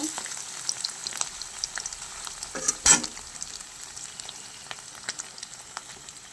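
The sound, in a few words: paneer frying in oil, turned both sides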